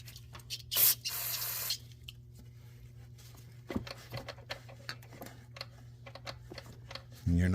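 Throttle body cleaner sprays from an aerosol can onto the throttle body of a Ford Explorer with a 4.6 V8, a close hiss lasting about a second, followed by light ticks and drips in a quiet garage.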